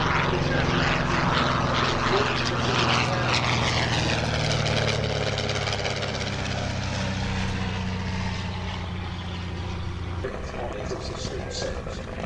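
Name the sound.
vintage propeller aircraft flying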